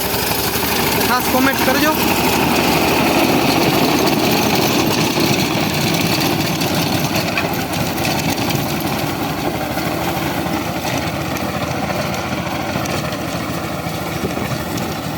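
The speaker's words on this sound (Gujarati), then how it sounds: "તો મિત્રો આ મિની ટ્રેક્ટરનું કેવું કામ છે" Mini tractor running a mini rotavator in a castor field, a steady mid-pitched engine drone throughout with someone talking over it.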